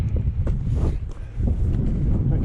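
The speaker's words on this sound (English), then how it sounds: "Wind's really picking up now." Strong wind roars and buffets the microphone on the Y Lliwedd mountain ridge amid slippery rock and poor visibility, a steady loud rumble that dips briefly before surging back.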